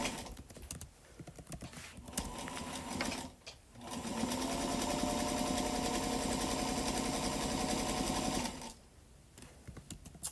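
Sewing machine stitching through cut quilt fabric, running in a steady continuous whir for several seconds with short pauses near the start and a stop near the end; no talking.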